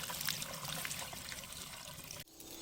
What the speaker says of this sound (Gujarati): હવે અંદર પાણી ઉમેરીને મિક્સ કરીને સ્પ્રેનો છંટકાવ ચાલુ કરી છે